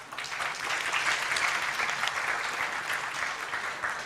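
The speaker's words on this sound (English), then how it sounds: "Please clap your hands to congratulate her." An audience at a NIR SIG conference session applauds to congratulate the newly elected chair, a steady dense clapping from a fair-sized crowd that holds evenly throughout.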